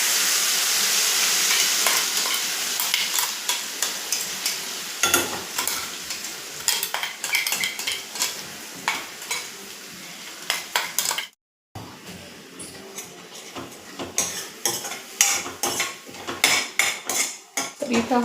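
Ground masala spices being sautéed in oil in a pan for a traditional recipe: a steady frying sizzle with frequent metal spoon scrapes and clinks against the pan, close and busy, with one brief cutout.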